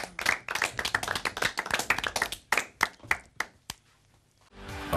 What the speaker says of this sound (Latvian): Aplaus gan Oskaram, gan arī Lingitai.